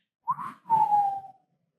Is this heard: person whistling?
yes